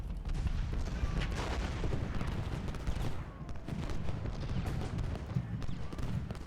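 Artillery and musket fire from a Gettysburg Civil War battle in the Ultimate General game crackle and thud repeatedly, a dense far-off barrage of overlapping shots and booms.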